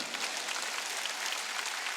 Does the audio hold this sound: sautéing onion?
no